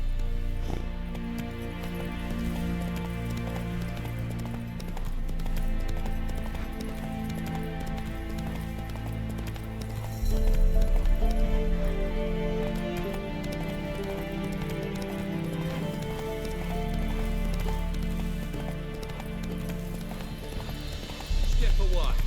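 Roach the horse galloping in The Witcher 3, rhythmic hoof clip-clops under a voice and other speech, with occasional whinnies and a shift in pace partway through.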